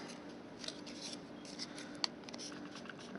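Scissors snip popsicle sticks into cross beams for a model Roman onager frame, a string of faint, close, crisp cuts and small clicks against a quiet background.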